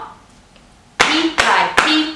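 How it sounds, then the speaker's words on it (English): Feet stomp on the ground three times in a slow rhythm, each a loud, close thump with a short ring, following a quiet lead-in. "we're going to stomp our feet on the ground"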